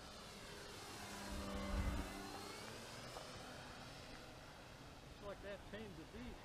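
Laird Super Solution model airplane flying, a faint engine drone that swells as it passes overhead and then fades into the distance, with people talking nearby toward the end.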